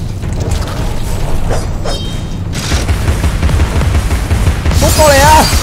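Rapid bursts from the pepper grinder gun in the Alice: Madness Returns video game, with heavy low booms, mechanical clatter and a rising whine near the end, loud and continuous with a voice speaking over the action.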